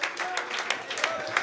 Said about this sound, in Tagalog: Bigyan natin siya ng malakas na papuring palakpak